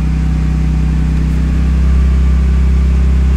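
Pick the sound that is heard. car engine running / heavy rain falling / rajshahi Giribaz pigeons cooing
car engine running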